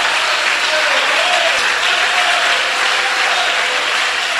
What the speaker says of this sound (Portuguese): Vamos aplaudir bem forte. Eu quero que você aplauda bem forte.